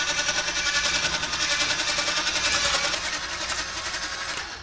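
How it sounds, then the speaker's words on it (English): Steady whisking of sugar into an ice cream base for pecan praline ice cream in a pan, a continuous, fairly loud rhythmic scraping and clinking with no talk. "using my whisk again, I'm just going to mix this up"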